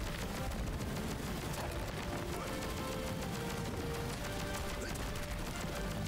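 Gunfire runs without pause through a stretch of Contra Operation Galuga play, a dense, steady barrage of shots and impacts layered over game music with no gaps.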